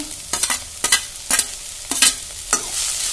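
Tomatoes added to a pan and stirred while frying for a Karnataka-style kalu palle: a low sizzle broken by several scraping spoon strokes against the pan, close and moderately loud, with no voices.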